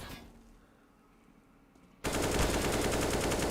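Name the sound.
gunfire in Counter-Strike video game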